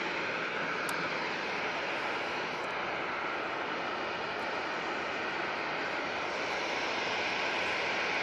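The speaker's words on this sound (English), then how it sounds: "On final now, we do have the Qatar Dreamliner" A Qatar Airways Boeing 787 Dreamliner on final approach, heard as a constant, dense jet rumble and whine from start to finish, fairly distant and even in level, with no voices.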